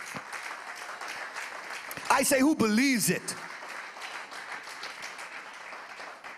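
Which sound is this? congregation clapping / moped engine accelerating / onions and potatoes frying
congregation clapping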